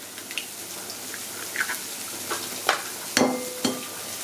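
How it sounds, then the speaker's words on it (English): Guanciale frying in a pan for carbonara, a low sizzle with a few sharp clinks and scrapes of a utensil, quiet and close. "While this guanciale is cooking away"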